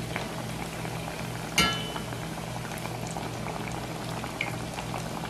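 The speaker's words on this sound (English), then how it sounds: "let them fry about 2 minutes on each side" Chickpea patties frying in oil over medium heat, a steady soft bubbling sizzle with one brief louder crackle, no talking.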